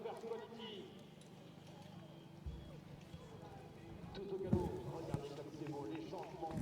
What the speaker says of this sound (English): You can see how the horse puts his hind legs under and pushes every stride.